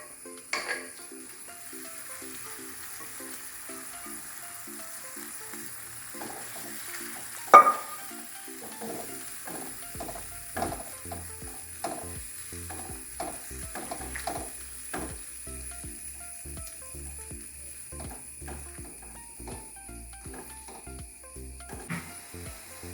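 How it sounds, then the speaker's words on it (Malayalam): Cooked breadfruit is stirred into a boiling masala paste in a pan, giving soft bubbling and sizzling with scattered scraping spoon strokes and one sharp knock, close and quiet with no talk. "ഈ അരപ്പ് നന്നായിട്ട് തിളച്ച് തുടങ്ങുമ്പോൾ നമുക്ക് നമ്മുടെ വേവിച്ച് വെച്ചിരുന്ന കടച്ചക്കയില്ലേ കടച്ചക്ക ഇട്ട് കൊടുക്കാവേ"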